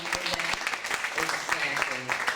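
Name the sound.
audience applause at a hypnotist show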